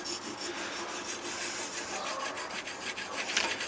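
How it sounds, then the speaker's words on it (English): Steady abrasive scraping of a blade stroked against a sharpening stone, soft rhythmic rasping strokes close by with no voices. "it sounds like it's taking nothing off whatsoever, but I can assure you it is"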